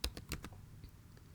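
Keys clack on a computer keyboard as letters are typed into the Rhino command bar: a handful of distinct, close taps in an uneven rhythm, alone and clear.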